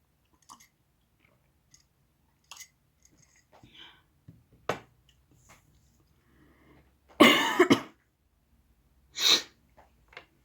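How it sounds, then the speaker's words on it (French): Scattered sniffles and small throat noises, then a loud, harsh coughing burst followed by another sharp cough, with quiet gaps between. "Désolée pour la toux, pour les quintes de toux et les reniflements."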